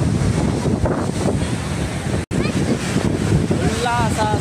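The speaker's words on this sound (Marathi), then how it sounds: "खुल्ला असा समुद्र किनारा आणि वरून धो पडणारा पाऊस" Open seashore at Bandstand in Bandra during pouring rain, with a loud, dense rush of wind, surf and rain filling the whole clip, buffeting the microphone, and faint voices under the noise.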